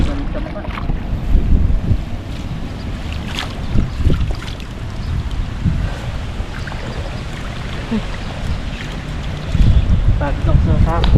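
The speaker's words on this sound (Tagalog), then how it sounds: "Uy, lamig. Mahangin." Wind gusts buffet a small boat out on open water, a steady low rumble with louder surges near the start, middle and end, and faint voices mixed in underneath.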